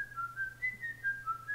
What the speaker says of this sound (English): he gets caught because of a distinctive whistle that he uses throughout the movie